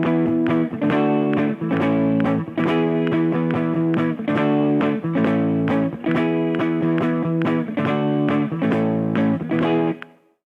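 A heavy rock riff on electric guitar with a lightly overdriven tone pounds out strong, rhythmic chords in repeated bursts for about ten seconds, then rings out and stops.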